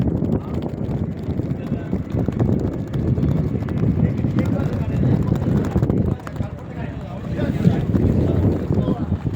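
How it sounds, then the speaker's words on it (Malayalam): Strong wind at Chavakkad beach buffets the microphone in a continuous low roar, with a voice talking underneath. "കാറ്റടിക്കണ്ടല്ലേ, കാറ്റെല്ലാം പാറിട്ടാ."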